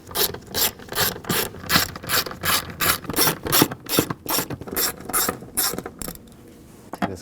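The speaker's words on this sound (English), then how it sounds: "we're gonna take these screws out for this cover, these nuts out. Use a 10mm socket." A ratchet with a 10mm socket loosens cover nuts on a 2007-2013 BMW 328i 3.0L L6, giving a close, steady run of rapid clicking strokes in even rhythm that stops near the end; no talking.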